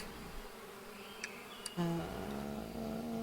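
Stone bees in the game APICO give a faint, thin buzzing that swells briefly partway through against a quiet background, with no one talking.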